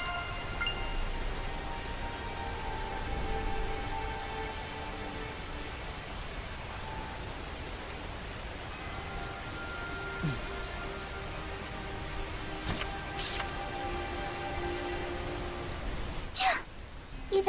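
Steady rain pours in a Tales of Zestiria scene, a continuous hiss filling the whole stretch with a few sharper clicks and effects over it, and speech appears faintly.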